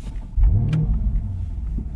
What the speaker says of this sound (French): Je vais vous laisser écouter le bruit, écoutez-moi le démarrage déjà.